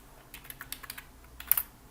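A computer keyboard shortcut being pressed: a short run of quiet, close key clicks ending in two slightly louder taps, alone in a hushed room.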